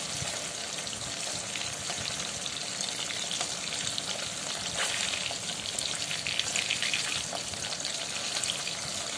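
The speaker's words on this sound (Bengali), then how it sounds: "মাছগুলো হালকা ভেজে নিয়ে তুলে নিতে হবে" Delicate pabda fish fry lightly in oil, giving a continuous, even sizzle with soft bubbling hiss at close range, steady throughout with occasional faint crackles and no talking.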